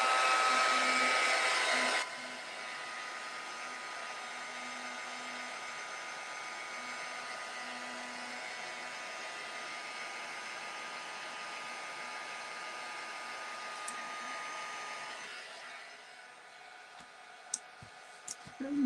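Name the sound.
hair dryer drying Distress Ink on a scrapbook layout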